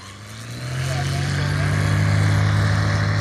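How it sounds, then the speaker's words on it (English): Light aircraft fly in the traffic pattern at a STOL drag training session, a steady droning engine hum that builds slightly and holds, heard at moderate distance, with voices talking over it. "So we got three aircraft in the pattern."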